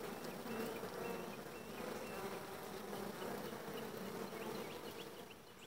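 Honey bees hum in a dense, steady drone from an opened hive during a split, close and continuous with no talking.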